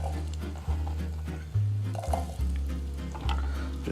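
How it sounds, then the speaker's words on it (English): Zucchini and other soup ingredients sautéing in a pan, a soft sizzle with low scraping and shuffling as the vegetables are moved about, close and moderately quiet, no talk. "We're gonna saute our ingredients"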